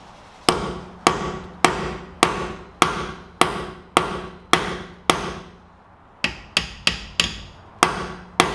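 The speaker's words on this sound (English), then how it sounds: "I've got a high impact Allen key socket which just so happens to fit in if you hammer it a little bit" Steel hammer blows drive a high-impact Allen key socket onto a spline drive locking wheel nut on an E46 BMW M3, about fifteen sharp metallic strikes at a steady pace, close and loud, with a brief pause before a quicker run.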